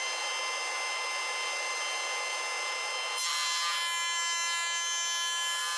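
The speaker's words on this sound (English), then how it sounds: "The element which I'm planing now and was glued before is the back of the joiner's bench." A hand plane rasps along a glued wooden element for the back of a joiner's workbench, a continuous scraping stroke that shifts pitch and grows brighter partway through, close and alone without talk.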